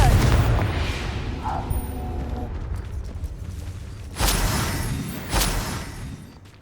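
Confringo blasting spell going off in Hogwarts Legacy, two heavy booming bursts a second apart rising sharply above a busy, rumbling game soundscape.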